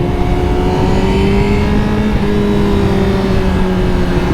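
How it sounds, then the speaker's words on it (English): A Honda CBR 1000RR-R Fireblade SP motorcycle accelerates in second gear with a loud, steady engine drone and rising pitch, heard close from the rider's position, with no speech. "when you hit this thing and you want to accelerate, it just does it now without thinking about it"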